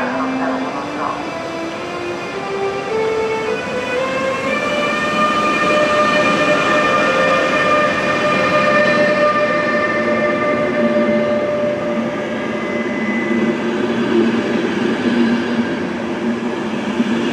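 A EuroCity train arriving at Győr station rumbles steadily while its wheels or brakes whine in rising and falling tones as it slows, loud and continuous throughout.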